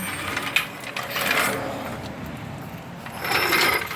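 A car jack is lowered after a strut change on a 2008 Toyota Corolla, making close, irregular metallic clicks and ratcheting in short bursts with quieter gaps between them.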